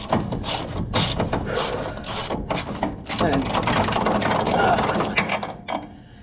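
A socket wrench ratchets on a ball joint of a 1981 Dodge D150 pickup, with quick bursts of close, rhythmic clicking separated by short pauses and a faint voice underneath.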